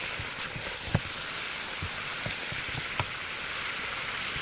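Beef tteokgalbi braising over high heat in a covered pan with a cup of water, giving a steady, close hiss and sizzle with scattered sharp pops and crackles.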